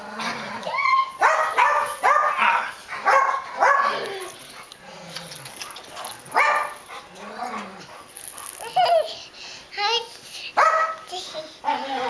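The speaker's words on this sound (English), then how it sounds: "Tell that puppy to shush" A small dog barks and yips repeatedly at close range, with people talking over and between the barks.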